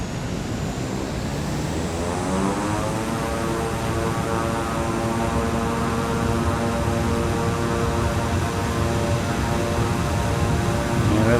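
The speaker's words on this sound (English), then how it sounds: "I'll do an outside the aircraft takeoff here." A Piaggio P180 Avanti II turboprop takes off in Microsoft Flight Simulator, heard from outside the aircraft: a loud, steady propeller and engine roar that rises in pitch as power builds and holds strong to the end, with no talking.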